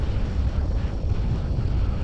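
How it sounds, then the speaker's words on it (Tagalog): Strong wind at Upper Seletar Reservoir buffeting the microphone, a loud continuous rumble with gusty fluctuations and no voices. "Yung hangin pala, lakas ng hangin."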